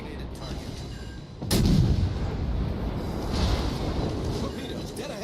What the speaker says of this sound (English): Requesting fire on the designated target.